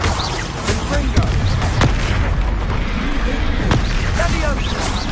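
In Hogwarts Legacy, a Confringo fire spell goes off in a battle with deep booms and bursts over a dense, noisy fight, with voices talking throughout.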